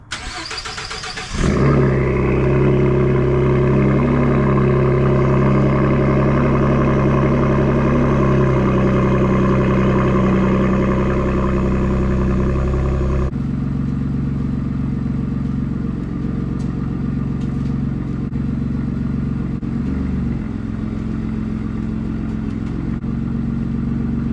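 A Ford F150 pickup cranks and fires on a cold start, then settles into a loud, steady high idle that drops to a lower, calmer idle partway through.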